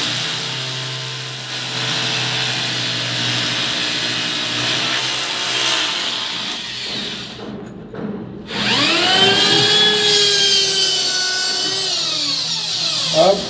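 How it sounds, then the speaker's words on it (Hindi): A handheld power drill boring a hole while fitting a toilet flush tank, whirring steadily close by, then cutting out briefly before spinning back up with a rising, whining pitch; no voices. "ड्रिल में चलाएं ताकि टायर टूटे ना"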